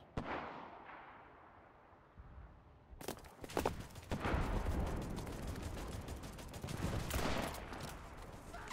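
M3 Grease Gun submachine gun fire in the WWII shooter Enlisted: a quiet lead-in, then loud, dense bursts of automatic gunfire and battle noise from about three seconds on, continuing to the end.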